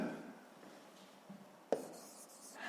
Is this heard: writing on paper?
yes